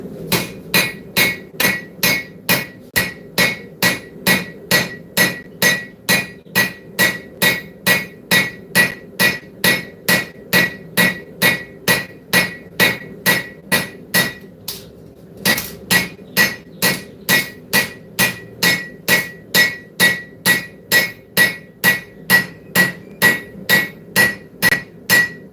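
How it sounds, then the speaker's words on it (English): Steady, rhythmic hammer blows on hot metal at a forge in a workshop, loud and close, repeating about twice a second with one brief pause midway. "Whenever I'm forging this, you'll see the hammer strikes go a different direction."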